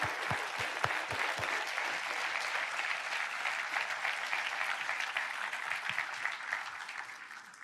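A church congregation applauds steadily and densely throughout, a sustained wash of many hands clapping at a constant level, with a few louder nearby claps standing out at the start.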